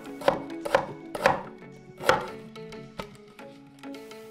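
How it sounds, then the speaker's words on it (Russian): A knife slicing half an onion into strips on a cutting board, several distinct crisp chops in an uneven rhythm, close and clear with no talking. "Берем половинку репчатого лука и нарезаем перьями."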